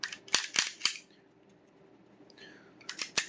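Gun part snapped and locked back into place during reassembly of a pistol with a threaded barrel: a cluster of three sharp metallic clicks, a quiet pause, then a few more clicks, close and alone.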